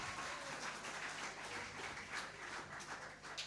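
A church congregation applauding during a Sunday service, a dense, fairly faint patter of many hands clapping continuously throughout.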